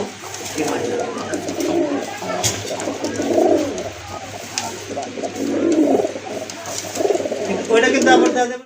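Large Rajgolla pigeons coo continuously in low, rolling murmurs, several birds close by, over a steady background hum.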